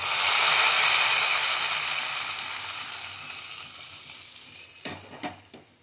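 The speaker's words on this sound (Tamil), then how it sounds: "கருவேப்பிலை பொரிஞ்ச உடனே நம்ம குழம்புல ஊற்றிடலாம்." Fried curry leaf tempering poured into mutton kulambu, a loud bright sizzle that bursts up at once and slowly dies down, followed by a few light clinks near the end.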